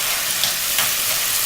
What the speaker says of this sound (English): You know how I love to hear food sizzle.